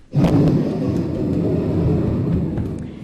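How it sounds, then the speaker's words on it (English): Deep rolling thunder from a thunderstorm, a loud low rumble that swells in suddenly and sustains for several seconds with a crackling, noisy texture, heard alone without voices. "You're not afraid of a thunderstorm, are you?"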